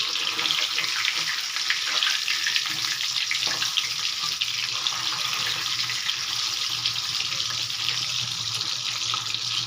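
Lote fish pakora pieces fry in hot oil with a steady, dense hiss and crackle that stays continuous and fairly loud throughout.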